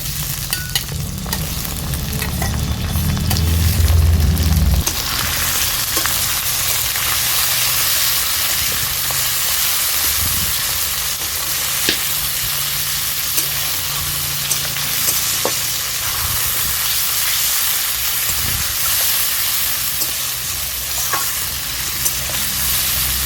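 Mutton is dropped into a pan of browned chopped onions and stirred: a heavy scraping rush in the first seconds, then a steady, close sizzle with a hiss of steam and occasional stirring clicks throughout.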